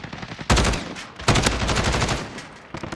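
Grau 556 assault rifle fire in Modern Warfare: two loud, close bursts of rapid automatic shots, the second burst longer and trailing off, followed by a few more shots near the end.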